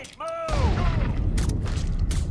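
In the crime game Mafia 3, a grenade goes off after a brief shouted voice. A loud, close blast is followed by sustained rumbling, crackling debris and scattered sharp bangs.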